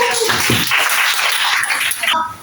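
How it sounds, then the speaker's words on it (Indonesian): A classroom of students gives a brief round of dense, steady applause for group 2, lasting a couple of seconds before fading. "Mari tepuk tangan dulu kepada kelompok 2"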